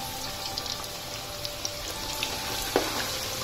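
Carrots and potatoes frying in a pan for mixed vegetables, a steady close sizzle with a few small pops and crackles throughout.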